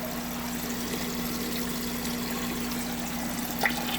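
Water flows steadily from a temporary flow check through a homemade sand filter into an outdoor koi and goldfish pool, making a constant, even rushing trickle at moderate level with no break.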